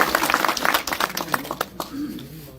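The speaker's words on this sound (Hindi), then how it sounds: "जोरदार तालियां भाई" A village gathering applauds loudly, with dense clapping from many hands for a couple of seconds before it thins out and fades.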